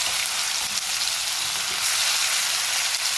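Bay leaf and ginger-garlic-chilli paste fry in hot oil with a loud, steady, close hiss that holds evenly throughout, with no talk.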